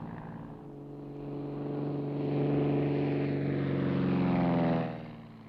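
A propeller-driven airplane drones overhead, its steady engine hum swelling from moderate to louder over several seconds and fading slightly at the end, with no talk.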